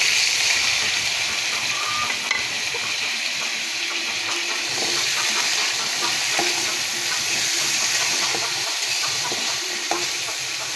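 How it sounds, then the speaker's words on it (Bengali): Fried dried fish with green chili, onion and garlic being stirred in a pan, a steady bright sizzle with light, regular scraping of the spoon throughout, no speech. "সব কিছু একসঙ্গে নেড়ে চেড়ে একটু সফট করে নেব।"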